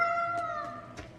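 A cat in the video game Tales of Berseria gives a short, clear meow with a tonal, slightly drawn-out pitch, heard alone in a quiet setting.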